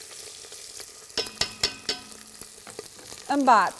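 Lamb meat and chopped onion frying in a pan for nwasser, a steady sizzle with stirring clatters and a brief rising sputter near the end, close, with a voice speaking briefly.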